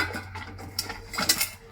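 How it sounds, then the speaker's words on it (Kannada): Cauliflower florets tipped into a pot of salted water to boil for dry gobi manchurian, giving a few soft clatters and knocks of pieces against metal, moderately close, with no talking. "ಸೊ ನಾನು ತಗೊಂಡಿರೋಂಥ ಪೂರ ಗೋಬಿನ ಹಾಕ್ಕೊಳ್ತಾ ಇದ್ದೀನಿ"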